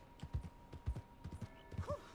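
Hooves of a horse clip-clop in a video game, a short run of about eight soft, close steps in a walking rhythm, followed by a faint brief squeal.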